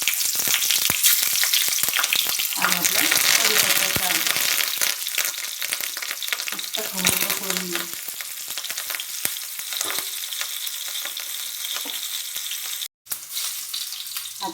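A tadka of asafoetida and chillies sizzles in hot oil, a loud crackling, spitting fry that fills the whole stretch, with occasional clinks and one brief cut-out near the end.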